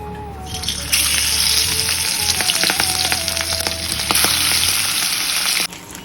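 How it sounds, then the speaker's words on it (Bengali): Hilsa fish pieces coated in salt and turmeric fry in a kadai with a loud, close, hissing sizzle and scattered crackles. The sizzle flares up after a quiet opening and cuts off near the end. "এখন এই যে ইলিশ মাছগুলো ভাজছে"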